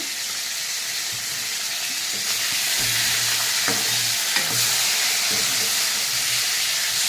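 Hilsa fish head turned over and fried in a pan, a loud continuous close sizzle of hot oil with a few scraping stirs and soft knocks of the spatula partway through, no talking.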